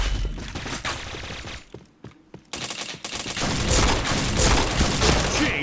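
Rapid video game gunfire rattles in dense bursts, drops briefly to near quiet with a few isolated shots, then resumes as sustained heavy firing.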